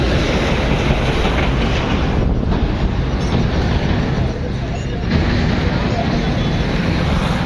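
A train rumbles past close by with a loud, steady rolling roar and faint rhythmic clatter of wheels on the tracks.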